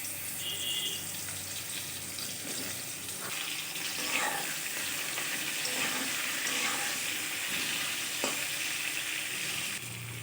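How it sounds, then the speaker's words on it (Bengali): Pumpkin and okra frying in oil in a pan, a continuous hissing sizzle with occasional scraping and clinks from stirring, close and steady throughout. "ঠিক একই রকমভাবে আমি মিষ্টি কুমড়ো আর ভেন্ডিটাও ভেজে নেব।"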